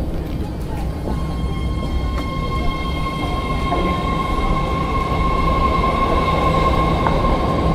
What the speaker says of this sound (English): This is a blue line train to Daly City.